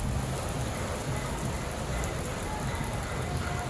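Steady rain falls outdoors on a street, a dense, even hiss of drops hitting surfaces that holds at a constant level from start to finish, with no voices.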